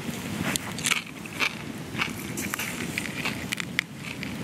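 Crisp bites into crackly roasted wild pig skin cooked on a rotisserie over an open fire, several sharp crunches spread over a few seconds outdoors, close and moderately loud.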